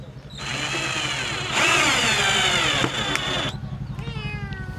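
A cat meows insistently in long drawn-out cries over a buzzing, droning background, followed by a shorter wavering meow.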